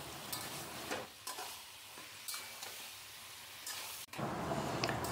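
Taro leaves and a hilsa fish head stir-fried over a low flame in a pan, with a steady soft sizzle beneath repeated scraping strokes of a spatula, moderately close and continuous with no talk.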